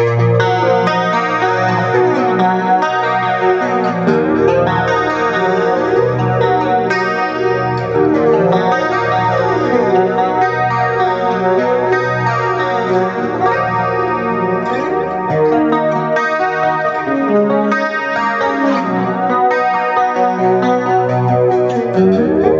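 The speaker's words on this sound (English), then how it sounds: "which is using a flanger effect with some delay, a little bit of EQ and reverb" Electric guitar played through an Eleven Rack with Mesa-style Classic 30 speaker simulation, flanger, delay, a little EQ and reverb: a continuous, loud, swirling sustained passage of chords and notes with no talking.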